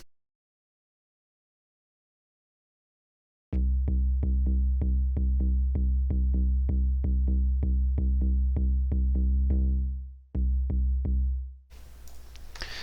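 Synthesized bass line in a music production demo, a run of repeated plucked low notes in a steady fast rhythm after a few seconds of silence, with a brief pause before a final burst of noise.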